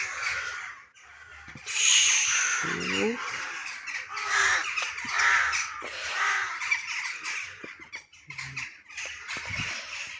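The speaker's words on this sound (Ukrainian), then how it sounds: "Чого вони так розмовляють перед тим, як лягти і спати? Такий галас, такий лемент." A flock of crows cawing and squawking loudly while settling in small trees to roost for the night, overlapping harsh calls from several birds, close and continuous, with a voice speaking briefly among them.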